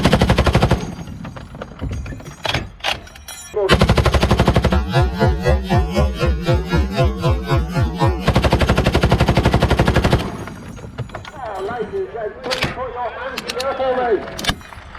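Machine gun mounted on top of a Land Rover firing long bursts at an outdoor midday shooting event, loud and close, with a sustained rapid volley between shorter bursts and voices around it.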